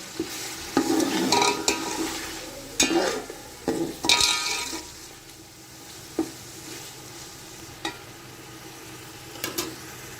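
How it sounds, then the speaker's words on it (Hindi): Beef being fried and stirred in a pot for a beef yakhni pulao, with bursts of sizzling and scraping strokes in the first half that thin out to occasional clinks and faint frying. "अब हम इसमें अपना बीफ जो है उसको ऐड कर देंगे और इसकी भी थोड़ी सी भुनाई कर लेंगे।"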